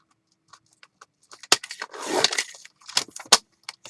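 Scissors cutting out paper pieces for a journal: a few faint snips, then a crinkly rustle of handled paper and several sharp close cuts, alone without talk.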